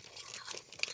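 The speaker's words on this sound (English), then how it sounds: "Y'all hear that crunch?" Crunchy keto-friendly chips, like a cross of Sun Chips and Cool Ranch Doritos, being chewed close to the mic, a brief run of crisp crunches with one sharper bite near the end.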